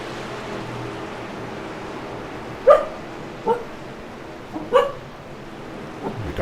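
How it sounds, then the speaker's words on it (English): Several dogs bark in short, separate yips and bow-wows spread across a few seconds, moderately distant over a low steady background hum, each bark brief and sharp with small gaps between. "The dogs approve of the cool drive, Matt"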